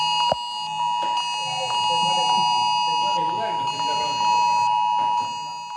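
A mobile phone plays the test signal of Italy's national public alert system, a loud, continuous electronic alarm tone that lasts almost the whole time while a person talks underneath it.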